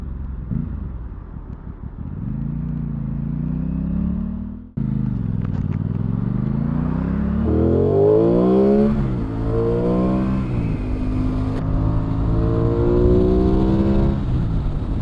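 Aprilia Tuono 660 motorcycle engine in dynamic throttle mode, idling steadily then cutting out briefly before being throttled up through several rising revs, loud and close with no talk.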